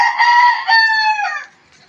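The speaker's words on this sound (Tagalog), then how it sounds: "Ito po yung aking manok." A single loud, close call from a chicken lasts about a second and a half, breaking into a couple of strained segments before fading into near silence.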